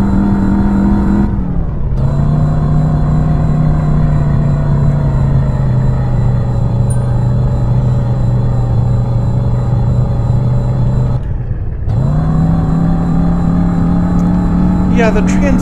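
A race car engine in the Revhead driving video game holds a loud, steady drone at high revs, cut by two brief drops where the gears shift down before the engine pulls back up.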